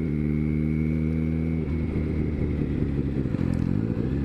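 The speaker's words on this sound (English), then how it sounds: "Guy riding a motorcycle" A Harley motorcycle riding past, its engine a steady, loud, low rumble with some mechanical clatter and no voices.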